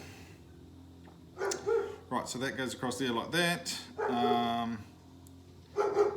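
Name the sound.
German Shepherd dog barking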